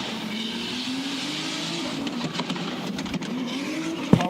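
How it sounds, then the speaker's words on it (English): A Nissan Cefiro drift car is pushed to the outside of a track sector at a drift series round, its engine droning steadily with tire noise, then a few sharp crackling exhaust pops and bangs near the end. "Pops and bangs as he pushes the car to the outside of Sector 1."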